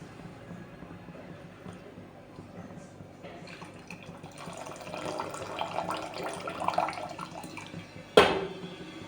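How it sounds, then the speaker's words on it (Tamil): Boiled jaggery water, half a litre with 350 g of jaggery, is poured into a mixture for paal kozhukattai, a steady liquid pour building in the middle and ending with a sharp clatter near the end. "இப்போ அந்த தண்ணியையும் நம்ம இதில் சேர்த்துக்கலாம்."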